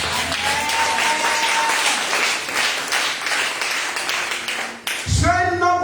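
A church congregation applauds to acclaim the Lord, dense steady clapping filling the room for about five seconds before breaking off into a musical chord and voices.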